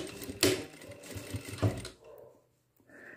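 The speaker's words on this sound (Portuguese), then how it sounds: "Vamos lá agora na máquina e vamos costurar, tá?" A sewing machine stitches fleece for a cuffed pajama jumpsuit, running in two quick close bursts with a rattling needle. The motor then stops, leaving near quiet.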